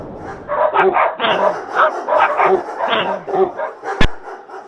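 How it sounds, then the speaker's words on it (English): A pack of dogs in an audio drama barks and yips in rapid overlapping bursts, loud and close, as they dash into a room, with a sharp impact near the end. "the 21 dogs are dashing into the room and they're heading directly towards Marlena"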